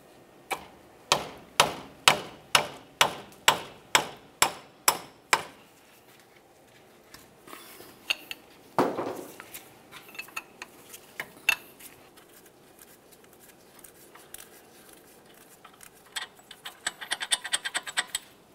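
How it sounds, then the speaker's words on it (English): A 15mm wrench loosens the top mounting bolt on the steering knuckle of a 2000-2006 Chevy Tahoe with a run of about ten evenly spaced, crisp metallic clicks, followed by quieter scattered clicks and clanks nearby. "For the top mounting bolt, we'll use a 15mm wrench."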